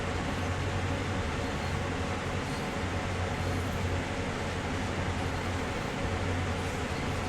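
A heavy-haul CSX freight train with a GP38-2 locomotive on a night service in Train Sim World, giving a continuous low rumble and vibrating drone with a steady engine hum throughout.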